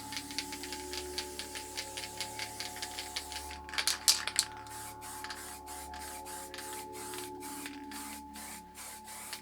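A series of short hissing spray-paint can bursts, then a louder spray pulse, with several more brief sprays trailing off over a steady mechanical hum.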